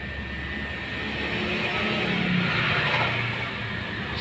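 Inverter air conditioner unit running smoothly: a steady, even mechanical hum and airy whir, close and unchanging throughout, with no voices.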